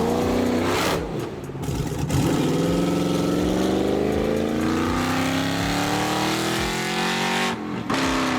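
A Pontiac Trans Am, lifted on 37-inch tires, revs its engine hard, the loud, close rumble climbing and holding in pitch for several seconds before easing off.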